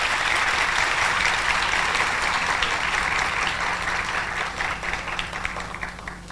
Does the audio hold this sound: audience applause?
yes